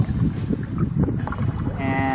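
A canoe paddled across Jake Lake in Woodland Caribou, with steady close water wash and wind buffeting the microphone, and a faint voice partly heard beneath it.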